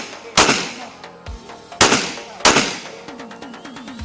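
Pistols in .45 and 9mm fire outdoors in rapid succession, with a few loud, sharp reports spaced about half a second to a second apart, each followed by a rolling echo and smaller cracks trailing at the end.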